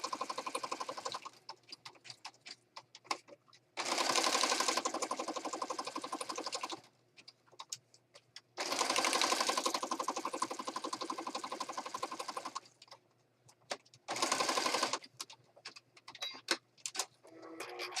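A sewing machine runs a standard zigzag stitch in several loud bursts of fast mechanical ticking, separated by short quiet pauses and a few isolated clicks.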